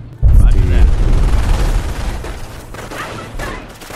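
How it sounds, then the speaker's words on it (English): Heavy gunfire and booming explosions in the video game Company of Heroes, a loud low rumble bursting in and slowly fading, with a voice talking over it. "They're firing on us!"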